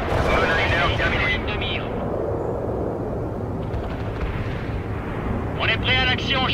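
Artillery and gunfire from the World in Conflict strategy game, a dense continuous battle rumble with repeated heavy blasts and bursts throughout, loud and sustained, with occasional clipped radio-style voice chatter over it.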